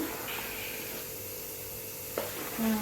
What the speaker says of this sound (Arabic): نكبو شويه بشويه، نخلطو غير بشويه باش الجينواز ما تخسرناش